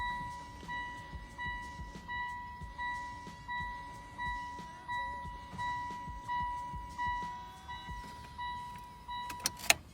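Car electric fuel pump priming after an Evox fuel rail and regulator install, a steady close-up whine pulsing in an even rhythm about once a second, ending with a few sharp clicks.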